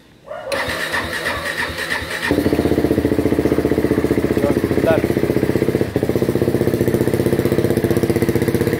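A KTM Duke 390 motorcycle engine with a hard-starting problem cranks roughly for a couple of seconds, then catches and settles into a loud, steady, close idle with a rapid thumping pulse.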